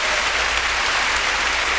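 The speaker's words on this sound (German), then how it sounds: "Applaus für diese Entscheidung" Dense applause from a large arena audience at the 1992 Eurovision Song Contest in Malmö, Sweden, a steady, loud wash of clapping that fills the whole moment without a break.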